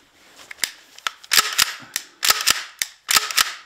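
An Umarex HDX.68 pump-action airsoft shotgun fires a series of sharp, snappy cracks at close range. Shorter mechanical clacks from the pump fall between the shots, grouped in uneven clusters, and no one speaks.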